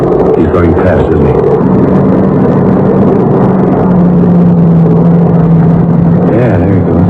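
A car from a 1967 radio drama speeds away, its engine a steady loud drone that rises in pitch and holds, with road whir underneath and no talk.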